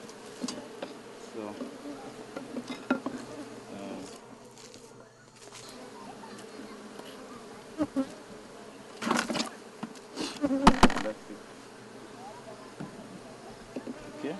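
Honey bees buzz steadily around an open beehive in Kenya while combs are handled, a continuous insect drone with a few louder handling knocks and rustles near the end.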